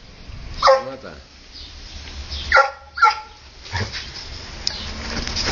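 A dog gives a few short, loud barks and yelps, spaced apart, with a person speaking in between in a domestic setting where a kitten is also present.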